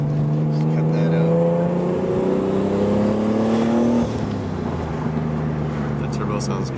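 Nissan Skyline R33 with a turbocharged RB30 engine droning as it climbs through the revs, the pitch rising steadily then dropping as the throttle lifts, heard from inside the car over road noise.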